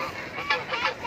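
Domestic geese honk in a short burst of nasal calls, fairly close in a village setting.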